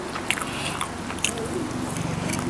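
Crisp, crunchy chewing of mushroom up close, with repeated bites and crackles over a couple of seconds.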